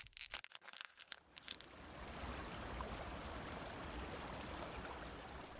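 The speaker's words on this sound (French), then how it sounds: "je regarde l'eau de la rivière flotter sur les roches et sonner une douce mélodie" River water runs over rocks in a steady, close rushing wash. Crackling handling noises come first, then the flow settles in evenly.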